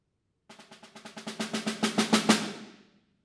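Snare drum strokes played as a clean passage with no roll strokes: about fifteen crisp, evenly spaced hits that gradually grow louder, then a short ring-out, close and unaccompanied.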